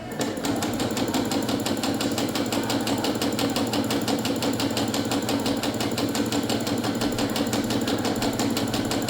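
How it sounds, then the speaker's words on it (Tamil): An SE625 sewing machine stitches continuously in a steady, rapid mechanical chatter with an even motor hum, close and loud, running without pause and with no voices. "பாருங்கள், நான் கண்டினியூவாக தைக்க போகிறேன்."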